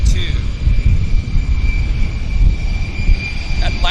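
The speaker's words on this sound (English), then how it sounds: "we got a WestJet departure right here" A WestJet airliner on its takeoff roll at Vancouver airport, a steady loud engine roar and rumble with a high whine, heard from a distance without letup.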